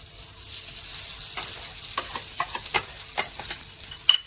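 Smashed potato frying with cumin in a little oil, a soft sizzle with scattered crackles and a few louder stirring scrapes toward the end, close and fairly quiet.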